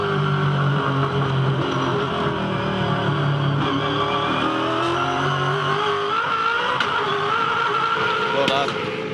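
A V8 Supercars race car in the 2011 Sandown Challenge accelerates, its engine note rising and sustained at close range under a commentator's voice.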